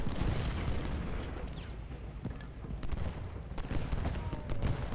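Musket and artillery fire from Civil War troops in the strategy game Ultimate General: Gettysburg, a dense, continuous crackle of volleys with scattered sharper shots and low rumbling booms throughout.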